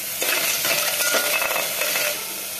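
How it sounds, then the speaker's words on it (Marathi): Sweet lime pickle being stirred in a pan over a gas flame, with a brief burst of scraping and rustling stir noise that stays fairly loud for about two seconds and then fades. "गोड लिंबाचे लोणचं त्याला छान हलवून घ्यायचं"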